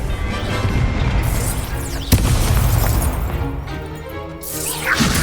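A fiery explosive spell from the Hogwarts Legacy video game bursts with a sharp crack and booming blast, followed by rumbling debris, whooshes and lingering crashes over continuous game sound.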